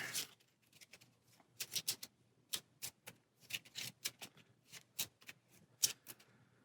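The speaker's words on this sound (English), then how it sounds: "we've got to shuffle our spawn deck" Rapid, crisp riffling and snapping of cards in uneven bursts, quiet and close, with no talking.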